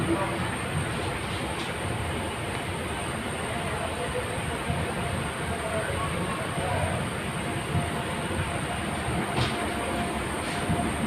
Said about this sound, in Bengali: জলন্ধর স্টেশন তো চলে এলো